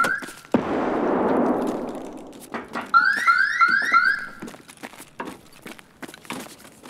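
A wailing alarm blares in Escape from Tarkov on the Interchange map, a repeating stepped electronic tone over a few seconds, following a loud rushing burst and with footsteps and game noises around it.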